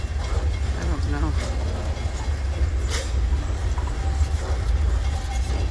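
Freight train 608 passes southbound nearby with a loud, steady rolling rumble and rattling wagons, plus faint wheel squeals drifting through.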